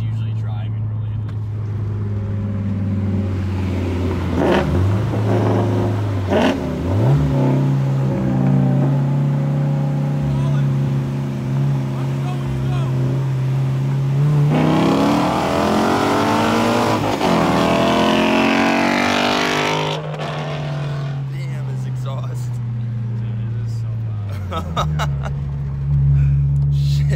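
A turbocharged Scion FR-S engine is heard from inside the car as it accelerates hard. The loud engine tone climbs through the gears, then briefly drops at shifts, with a strong surge toward the top end. Occupants talk over it.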